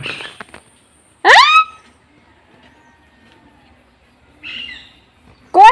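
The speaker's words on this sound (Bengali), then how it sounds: "সুন্দর কথা বলতে পারে এই টিয়া পাখিটা দেখো জোরে জোরে কথা বলছে ডাকছে" A pet parakeet gives several loud, harsh squawking calls in short bursts separated by quiet gaps, close by and otherwise silent.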